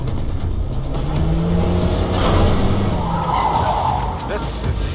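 A Porsche in Cyberpunk 2077 roars and skids, engine drone overlaid with a rising tire squeal that swells mid-clip before easing off, loud and close, with game voices mixed in.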